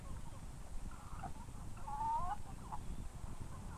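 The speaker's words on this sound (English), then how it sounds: "Here is a rooster and a hen." A rooster and hen on a farm make soft, scattered clucks and murmurs, with one brief squawk standing out midway, all fairly faint against low background hiss.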